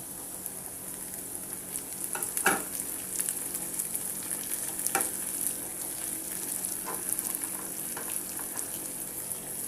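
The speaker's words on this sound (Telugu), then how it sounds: "ఒక రెండు నిమిషాలలో ఫ్రై అవ్వనివ్వండి ఇప్పుడు ఇందులో మనం బీన్స్ కాయలు వేసుకున్నాం" Green beans fry in a pan and sizzle steadily at moderate volume, with a few louder stirring scrapes and clinks over the constant hiss.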